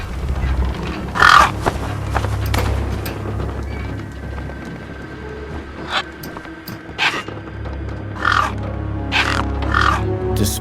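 Crows caw in a bleak wasteland setting of the game Beyond a Steel Sky, harsh scavenger gang-bird calls bursting out repeatedly at irregular intervals over a low rumbling ambient drone, some near and some farther off.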